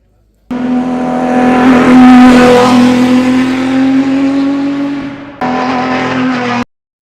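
A Datsun Fairlady race car with a nearly 3-liter, 320-horsepower six-cylinder engine runs at a historic hillclimb, its loud engine revving hard and holding high, cutting out briefly, then roaring again before stopping abruptly.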